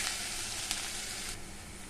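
Onions sizzle steadily in hot oil for a tilapia curry, a constant bright frying hiss with one small pop, no voices.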